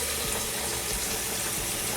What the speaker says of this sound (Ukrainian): Зараз тече в нас вода.